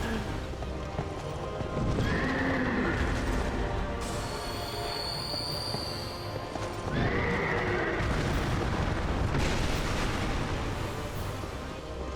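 A horse in Dark Souls 2 neighs twice in shrill whinnies amid clip-clopping hooves and a steady game soundscape, with brief talk over it.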